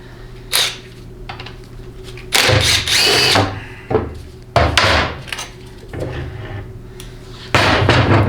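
A bolt is worked loose from the valve body of a 4L80E automatic transmission with a power tool, giving several short loud bursts between quieter handling knocks and clatter.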